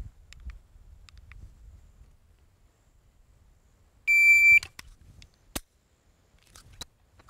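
A shot timer gives a single loud electronic beep to start a dry-fire draw practice rep. Faint rustling comes before it, and a few sharp clicks follow in an otherwise quiet setting.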